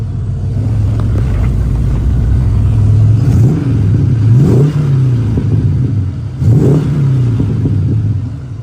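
A muscle car's engine, an orange car with Ford racing gauges, idles with a deep loud rumble, then revs up sharply three times, each rev rising and falling back to idle, close and alone.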